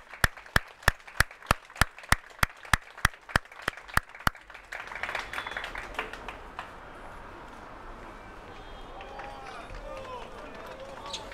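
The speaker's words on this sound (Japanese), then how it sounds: "両チームの選手に温かい拍手をお願いいたします" Spectators applaud at the end of a baseball game between Lead Effort Ales and Seoul Vikings. A run of sharp, evenly spaced ticks comes first, then steady, fairly distant clapping that fills the rest and mixes with crowd noise.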